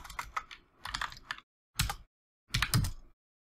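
Short bursts of typing on a computer keyboard while writing Python code, quiet close-up key clicks in three or four quick runs with brief pauses between them, and no talk.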